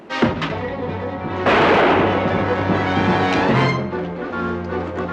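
A movie scene carries loud, sharp gunshots that ring out and echo among flaming cardboard boxes, with a sustained roaring burst partway through and no talk.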